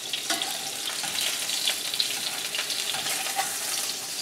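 Tuna steaks sizzle in a hot pan, a continuous bright crackle and hiss with small pops and a few soft clinks from turning, close and steady with no talking.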